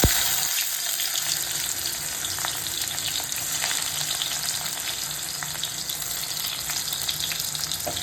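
Chopped onion hits hot mustard oil in a wok already spiced with black cumin, bay leaf and whole cumin, giving a loud, steady sizzle and crackle that continues unbroken, close up, with no voices.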